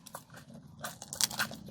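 A crisp canelé pastry is bitten and chewed, giving a few short, close crunches over about two seconds, with the sharpest crackle near the end.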